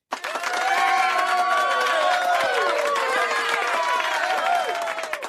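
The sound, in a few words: round of applause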